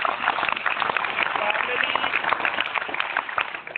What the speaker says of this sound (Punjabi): ਇਹਦੇ ਲਈ ਜ਼ੋਰਦਾਰ ਤਾੜੀਆਂ